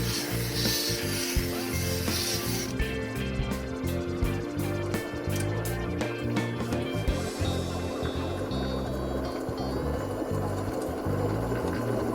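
Jasper cabochon held against a leather buffing wheel charged with aluminum oxide compound, a steady motor whir with continuous rubbing friction running throughout, close and fairly loud, no talking.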